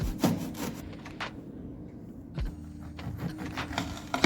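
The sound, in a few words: grating fresh orange peel for zest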